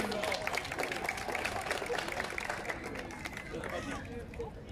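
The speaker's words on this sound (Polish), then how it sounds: "Poprosimy o brawa" A crowd claps steadily at an outdoor regional dairy festival and concert, with dense sustained clapping and cheering voices mixed into the noise.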